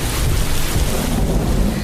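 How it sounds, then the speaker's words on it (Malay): Heavy rain roars with rumbling thunder underneath, a loud, dense and unbroken downpour with no voices. "Hujan semakin lebat."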